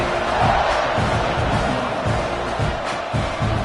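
A college football stadium crowd roars just before a kickoff between Penn State and Texas A&M, a loud, dense, continuous swell of cheering and shouting with no distinct voices standing out.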